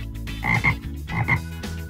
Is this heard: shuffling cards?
no